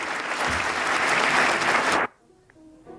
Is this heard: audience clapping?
yes